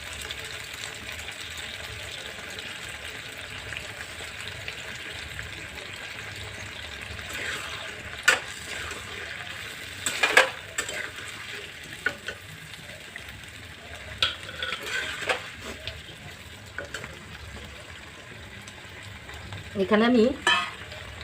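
Chilli fish pieces frying and stirred in a pan, a soft continuous sizzle broken by intermittent scraping and clattering stirs, with a short spoken remark.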